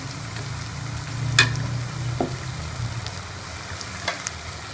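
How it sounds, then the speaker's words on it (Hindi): Lentil dumplings for dahi bara fry in hot oil with a steady, close sizzle and bubbling, broken by a few brief spoon clinks against the pan. "ये हमारे बड़े बहुत ही अच्छे फ्राई हो गए हैं।"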